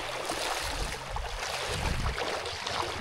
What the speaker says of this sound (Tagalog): Tapos malakas yung agos oh.